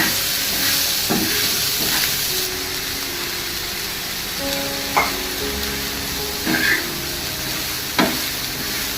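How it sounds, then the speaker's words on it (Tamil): Sliced onions for adai are sautéing in a pan, giving a loud, continuous sizzling hiss. A few distinct stirring knocks and scrapes sound at intervals. No voices are heard. "கொஞ்சம் நல்லா வதக்கிடுங்க வெங்காயத்தை."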